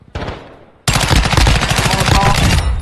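Loud, close automatic gunfire in a video game: a short burst, a brief gap, then a sustained rapid rattle of shots lasting nearly two seconds.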